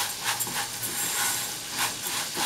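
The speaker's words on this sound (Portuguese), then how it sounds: "agora o meu bacon vai fritar" Bacon sizzling in a pan on a home stove, a steady fine hiss with soft crackling bursts that swell and fade, moderately quiet and close, with no voices.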